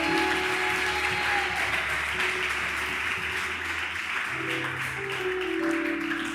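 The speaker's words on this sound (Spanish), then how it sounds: "démosle otro aplauso al Señor Jesús" A church congregation applauds together after a prayer, a broad, steady wash of clapping that fills the whole stretch at a fairly even level with no voices above it.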